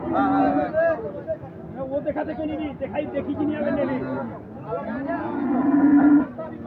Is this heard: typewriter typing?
no